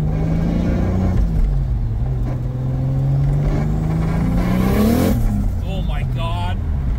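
Converted Nissan Pulsar engine revving hard, climbing to a sharp peak as the tires break loose, loud and close, with people talking excitedly throughout.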